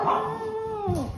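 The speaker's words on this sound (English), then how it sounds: "And Skipper likes to howl when she goes by" A Boston Terrier lets out a single drawn-out howl, close and clear, wavering before its pitch slides down at the end.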